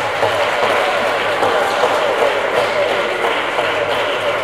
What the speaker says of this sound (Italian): Facciamo un applauso, Leonardo.